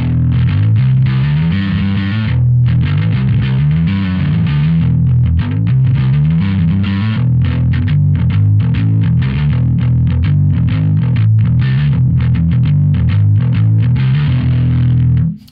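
Heavily distorted bass guitar with the drive turned right up through a Two notes Genome 1.5 amp simulator, playing a steady, dense riff of low notes with fizzy high-end grit, loud and continuous throughout with no voices.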